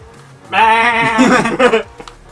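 Sheep bleating inside the racing game Forza Horizon 4, a single drawn-out wavering bleat that is loud and close, with a shorter quavering call trailing right after it and no other voices.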